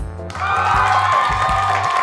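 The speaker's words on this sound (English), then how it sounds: "You can insert the applause now, please." A burst of inserted applause and cheering from a crowd comes in suddenly after a brief quiet moment and holds steady, with a low musical tone pulsing underneath.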